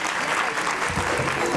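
A crowd at a women's Bhondla festival gathering in Pimpri Chinchwad applauds a woman being honoured, a brief burst of dense, loud clapping with a voice speaking faintly underneath.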